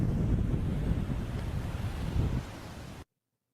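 Rough sea waves surge against the shore in strong wind, a loud continuous roar with heavy wind buffeting the microphone, cutting off abruptly near the end.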